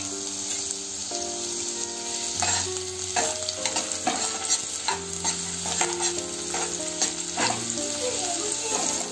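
Onion and garlic sautéing in hot oil for a dried-fish chutney, a close sizzle with stirring under a steady musical background of sustained tones.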